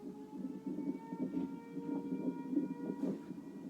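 Tornado sirens sounding as a supercell's rotation passes overhead: a steady, droning wail that holds for the whole stretch, carried from some distance with no voices over it.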